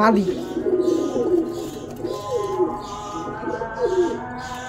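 Domestic pigeons at a home loft give repeated soft, throaty coos in rolling phrases, close and clear, with a few higher chirps and a person talking nearby.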